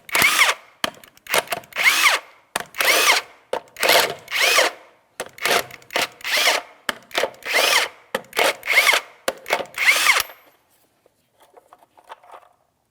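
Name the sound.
power tool loosening wheel nuts with 22 mm socket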